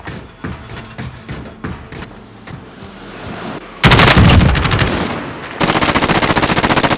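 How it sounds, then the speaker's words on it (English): Gunfire in Call of Duty: Modern Warfare: scattered shots at first, then loud rapid machine-gun bursts close by that rattle continuously to the end, with no talk. "Under hostile fire."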